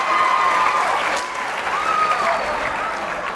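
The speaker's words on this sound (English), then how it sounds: "How about a big round of applause for your very own St." Loud, dense applause from a college show audience welcoming a student ballet group, a continuous roar of clapping with some cheering throughout.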